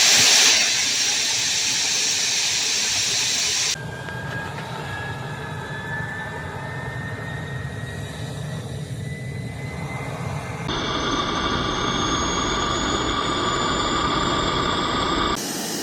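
Homemade turbojet engine built from junkyard parts, with a startup fan blowing at the intake, roars with a steady broadband hiss. A rising whine sweeps through it, and the sound grows louder and brighter partway through as the engine catches and runs on its own, with no talking.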